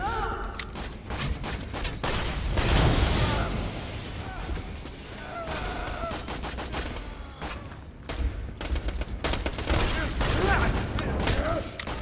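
Gunfire in a video game is aimed at the player, rapid volleys and bursts of shots crackling loudly in clusters across the whole stretch, mixed with booms and game noise.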